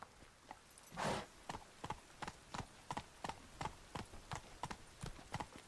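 A horse's hooves clip-clop at a steady walk in The Witcher 3: Wild Hunt, a run of about a dozen crisp, evenly spaced knocks that stay faint and fairly close, with one louder thud near the start.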